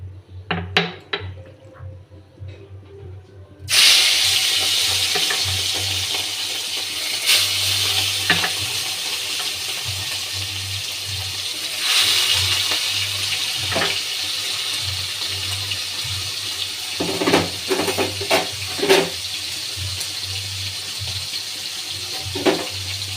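Fish dropped into hot oil in a home kitchen set off a sudden loud, steady sizzle that keeps crackling and hissing, with a few clinks and knocks of utensils along the way.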